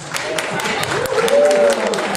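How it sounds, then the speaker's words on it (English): A small group at a board meeting gives a brief round of applause, light scattered clapping under a speaking voice. "Oh, y'all clap."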